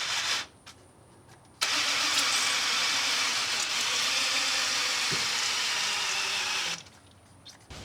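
A motor whirs loudly and steadily for several seconds, turning an engine over with a constant broadband mechanical roar, then winds down to quiet.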